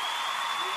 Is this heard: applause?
yes